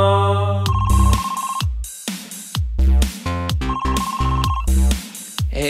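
A phone ringtone rings twice in a repeating electronic melodic pattern, loud and close, with brief gaps between phrases and no voices.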